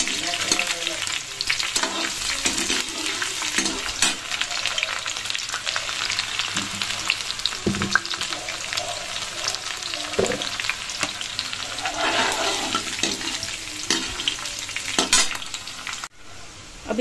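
Chopped onion sizzling and frying in hot oil for a kadhi pakoda tadka, a steady close crackle with occasional stirring scrapes from a spoon, continuous for the whole stretch without speech.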